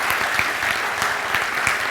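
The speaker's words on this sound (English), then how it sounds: "So please give her a warm round of applause." Audience applause at a public talk on ancient myths, steady dense clapping from a crowd throughout, fairly close and even in loudness, with no voices over it.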